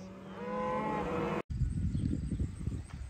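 Mixed dairy and beef cattle in a pasture, one long, loud, close moo that cuts off abruptly and then gives way to rough outdoor noise and shuffling, with no talk.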